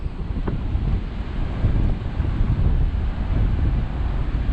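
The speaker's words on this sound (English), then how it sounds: "There's a hurricane wind right here" Strong wind from Hurricane Dorian buffets a Ryze Tello drone in fast mode, giving a loud, continuous low roar of wind noise on the microphone with no break and no speech.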